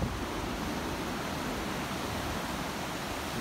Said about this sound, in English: Some nice little waves.